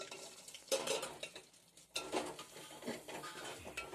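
Ground masala dropped into rasam and stirred, giving two bursts of metallic spoon-and-pot clatter followed by lighter scraping, close and fairly quiet, with no voices.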